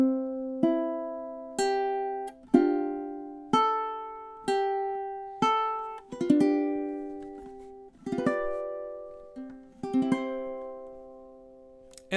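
Plucked ukulele picking out a song melody, single clear notes and a few strummed chords ringing and decaying one after another at an even, slow tempo, alone and close.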